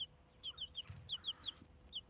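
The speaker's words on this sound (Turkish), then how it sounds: "10 tane civcivimizle" About ten chicks cheep in quick, high repeated peeps at close range, with an occasional low cluck from a hen beneath them. The outdoor background is otherwise quiet.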